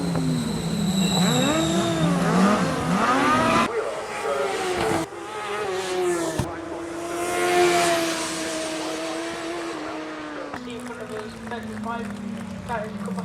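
A high-revving racing motorcycle engine whines and shifts pitch through gear changes, loud and sustained, with a commentator talking over it.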